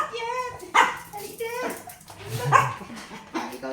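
An abandoned stray dog barks and yelps a few times in short bursts at moderate distance, with people chatting in between.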